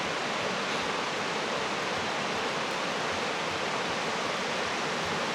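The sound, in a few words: waterfall in Yellowstone or Grand Teton National Park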